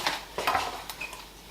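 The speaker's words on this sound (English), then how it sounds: "Stir that in evenly." A spoon scrapes and clinks around a pan while stirring a whole packet of melted marshmallows for crispy squares, a few short metallic scrapes with soft sticky pauses between them.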